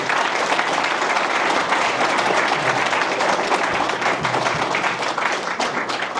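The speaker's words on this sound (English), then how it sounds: "let's give him a round of applause" A crowd at a community mosque gathering breaks into sustained, dense applause, loud and steady throughout with no break, filling the space with many overlapping claps.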